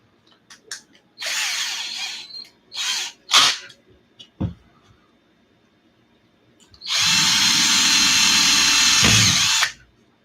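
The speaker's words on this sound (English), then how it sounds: "I'm just going to drill out the bottom 2 then to elongate the screws in those holes" Power drill boring out screw holes in a plastic RC car case: several short whirring bursts at the start, then one long steady high-pitched drilling run, close and loud with no talking.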